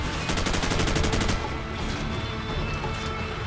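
Rapid automatic gunfire in Call of Duty 4, a dense burst of close shots for over a second, then a steady noisy battle wash with distant fire continuing underneath.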